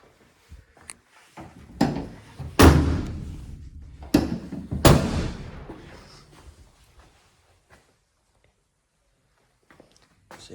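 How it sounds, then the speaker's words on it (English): The driver's side sliding door of a 2021 Citroen Dispatch van is worked open, with a clunk of the handle and latch, two heavy rolling thuds as the door slides back, then fading rattles and near silence. "I'm just going to open the driver's side sliding door"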